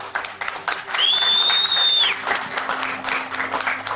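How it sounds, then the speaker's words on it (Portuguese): An audience at an aircraft and spacecraft lecture breaks into steady, sustained applause, loud and dense, with a brief high whistle over the clapping. "Uma salva de palmas aqui para o Exército Brasileiro."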